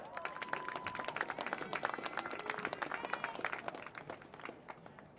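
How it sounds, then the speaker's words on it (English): Steady applause from a crowd at a BGSU women's soccer senior recognition ceremony, honoring Rachel Muller, heard at moderate distance as continuous scattered clapping that fades slightly toward the end. "let's give a round of applause to Rachel Muller"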